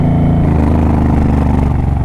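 A loud motorcycle engine runs close by on a mountain slope with a deep, throbbing drone echoing off the hillside, held steady throughout.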